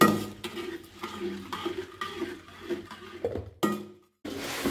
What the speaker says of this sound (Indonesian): sambil memasak gulanya, sambil kita aduk-aduk ya teman-teman, supaya gula merahnya cepat meleleh